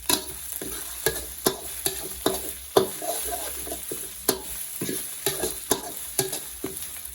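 Pork being stir-fried in a hot pan, with steady sizzling broken by a regular series of sharp scrapes and knocks from a spatula, close and fairly quiet, no talking.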